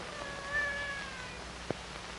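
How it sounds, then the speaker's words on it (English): Pure white cat meowing indoors, one drawn-out, fairly quiet mew followed by a brief sharp click, with no voices. "A cat."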